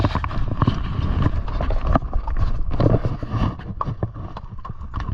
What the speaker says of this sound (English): we gallop these horses and they do all that